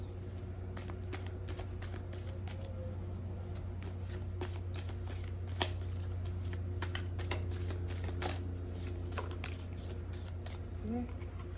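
A deck of playing cards being shuffled, producing repeated crisp riffling flutters and soft slaps at close range over a steady low hum, with no talking.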